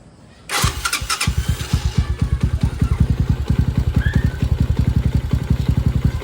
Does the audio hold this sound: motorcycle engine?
yes